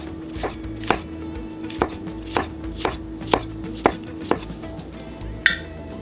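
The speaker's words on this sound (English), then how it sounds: "And preparing the mushroom, cutting that into some thin slices as well." Knife slicing a mushroom thinly on a board: about nine crisp, evenly spaced chops with a knock at the end, up close and free of talk.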